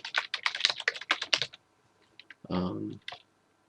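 Rapid typing on a computer keyboard, a quick burst of close, crisp key clicks for about a second and a half, then a pause, a short low hum and a final click.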